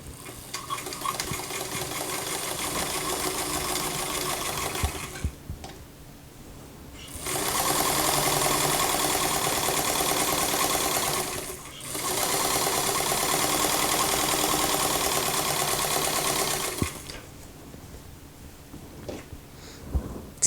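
A sewing machine stitches a hem with a double needle in three bursts of rapid, even whirring, each several seconds long, separated by short pauses and followed by quieter handling sounds.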